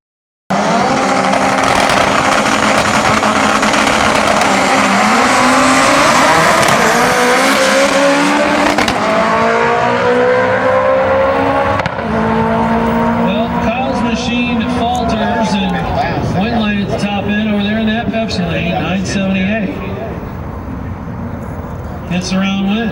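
A turbocharged Honda Prelude and a turbocharged K20-powered 1998 Honda Civic drag racing at a street and pro import event: loud, rising engine roars through the gears, with tire squeal and fading passes as the cars pull away, under an announcer's voice.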